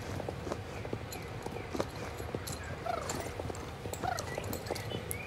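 Horse hooves clip-clop at a walking pace in the Star Stable video game stables, steady and fairly faint, with an occasional soft whinny-like sound.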